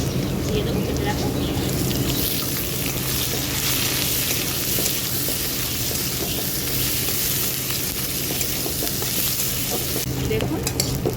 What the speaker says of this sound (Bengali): আলু আর পেঁয়াজটা বেশ ভালো করে ভাজা ভাজা হয়ে গেছে।